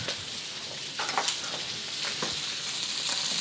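Shrimp and prawns frying in a hot wok for char kway teow, a steady loud sizzle with occasional stirring scrapes, close up and without talk.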